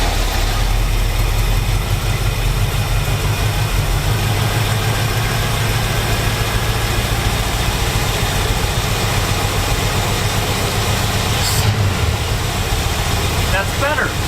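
A worn-out El Camino's engine running and idling after being started on leftover fuel in the carburetor, a steady, loud low rumble filling the whole stretch with little change.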